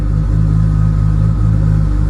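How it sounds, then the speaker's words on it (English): A Toyota JZ engine fitted with a drive-by-wire throttle and an m54b30 setup idles steadily and loudly up close, a smooth low rumble with a gentle lope and no talk. "it's actually idling way better than it was with a cable"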